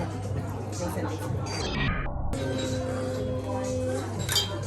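Glasses clink in a toast at an 18th birthday celebration, with a few light chinks against a busy background of voices and room noise.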